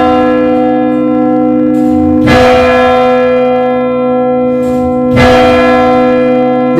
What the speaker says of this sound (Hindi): और आपको घंटे की आवाज भी सुनाई पड़ रही है